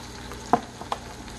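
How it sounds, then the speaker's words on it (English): Garlic and pepper stirred in a pan, two or three soft spoon scrapes over a quiet background sizzle, close and brief with no talk. "And give this a nice stir."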